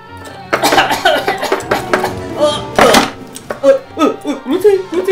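Several harsh, bursty coughs break out in quick succession in a Czech puppet show, loud and close, mixed with clattering noise and some voiced sounds.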